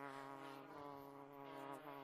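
Bees buzz among flowers and decorations during a Gorilla Tag event: a continuous, droning hum with steady tone, faint and without talk.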